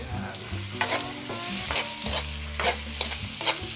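Cubed pork added to sautéed onions in hot oil for menudo, a close, lively fry with repeated scraping stir strokes and sharp sizzling bursts, no voices.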